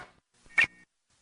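A single short electronic chirp tone used as the CBS Radio Net Alert signal, one crisp bright blip with a brief tail, isolated in near silence.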